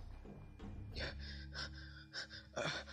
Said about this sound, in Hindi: थके हुए चूहे सा वो सीढ़ियों पर बैठकर हाँफने लगा।